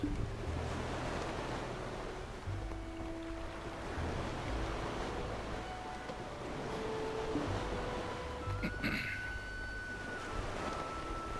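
Ocean waves in the online game Black Desert Online wash and surge in a steady, continuous roar along a coastal whaling spot, with faint wind and a few soft tonal game sounds, and no talking.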